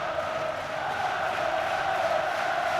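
A football stadium crowd at a Swansea City v Cardiff City Championship derby swells into a steady, broad roar of cheering after a headed clearance, sustained and distant-sounding throughout.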